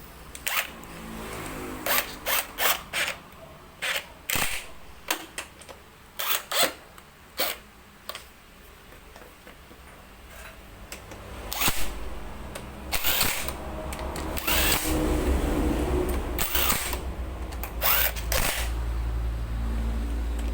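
Parts on the clutch side of a Raider 150 motorcycle engine being tightened, with a series of sharp metallic clicks and taps in uneven bursts, close by, followed by a lower steady rumble of handling noise.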